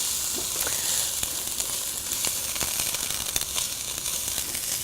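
Skillet enchilada ingredients sizzle in a hot pan, a soft, even hiss that runs throughout with faint clicks and tosses.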